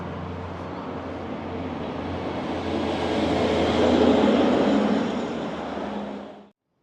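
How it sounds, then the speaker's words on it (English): A vehicle passes along a road in Innisfail, Australia, a broad rushing roar swelling as it nears and fading away, with no talk. "Sit out here and you can watch the cars go by"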